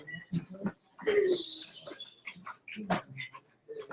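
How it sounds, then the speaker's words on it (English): A bird coos and chirps nearby in short, scattered calls with quiet gaps between them. "there was a sound of a bird"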